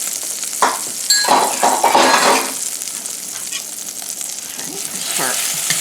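Two eggs sizzle and fry in a pan while being stirred, a steady hiss with bursts of louder crackling and light scraping of the utensil against the pan, fairly close.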